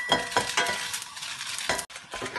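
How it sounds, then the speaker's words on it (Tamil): Dried red chilies roast in a dry pan for an aubergine curry, giving bright crackling sizzle with repeated scraping stirs in quick bursts, close and loud, with one brief gap near the end and no voices. "இப்பொழுது செத்தல் மிளகாயை வறுத்தெடுக்கப் போகின்றோம்."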